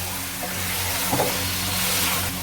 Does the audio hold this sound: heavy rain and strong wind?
no